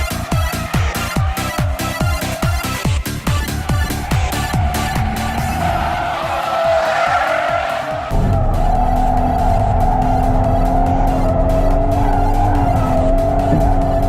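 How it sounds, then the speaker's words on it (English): A 2001 BMW Z3 Coupe with a five-speed and fat rear rubber holds a long drift, its rear tires squealing loudly and continuously over the revving engine, with no voices. "You can pull spectacularly long drifts in this thing. Even with 90 less horsepower and the same fat rubber as the M cars, this has no problem roasting the rear tires."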